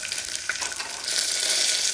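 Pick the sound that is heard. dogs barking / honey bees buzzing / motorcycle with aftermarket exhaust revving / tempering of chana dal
tempering of chana dal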